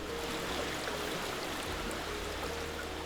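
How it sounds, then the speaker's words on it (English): The Pilchuck River flows freely after its dam was removed, a steady broadband rush of moving water holding even throughout, close and loud with no voices. "This river has finally got to flow the way it wanted to, back to its natural state."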